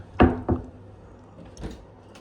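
A hotel room cabinet door in a Tokyo hotel bumps and knocks twice as it swings open, followed by a fainter wooden tap a moment later.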